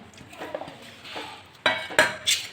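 A spoon stirs vada batter of soaked flattened rice and moong dal with salt in a bowl, starting with soft wet squelches and ending with three sharper scrapes and clinks against the bowl, close and without talk.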